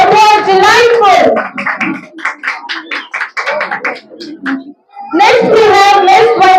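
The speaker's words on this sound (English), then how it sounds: "Parents, please give them a huge round of applause." Applause from parents at a kindergarten fancy dress competition, brief hand clapping between stretches of someone speaking over a loudspeaker, with children's voices mixed in.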